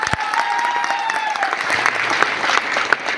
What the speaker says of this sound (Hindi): अनु शर्मा गुरु जी के लिए एक बार जोरदार तालियां